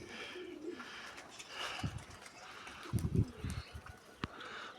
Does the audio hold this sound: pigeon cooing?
yes